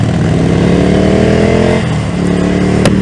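A motorcycle engine revs hard and accelerates past a Harley, a loud, continuous rising roar with climbing harmonic whine that drops briefly near the end before surging again.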